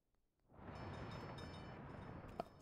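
A train in the video game Workers & Resources: Soviet Republic rolls in as a steady, low rumble that swells within half a second and holds at an even level, with a faint clank near the end.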